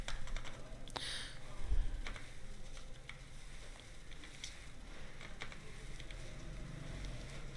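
Keys clack on a computer keyboard as text is typed into a PowerPoint slide, a quiet, irregular patter of keystrokes with no speech.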